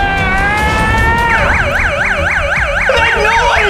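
A loud emergency siren close by, a rising wail that shifts into a rapid warbling yelp over rumbling traffic.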